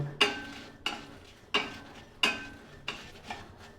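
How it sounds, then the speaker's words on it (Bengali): Whole spices dry-roasting in a dry kadai over medium or low flame, with about five sharp, evenly spaced scraping rattles as they are stirred and tossed against the metal, fairly quiet and close. "এগুলোকে আমি কড়াইয়ের মধ্যে শুকনো কড়াইয়ে দিয়ে দিলাম। এটাকে হালকা করে আমি ভেজে নিব"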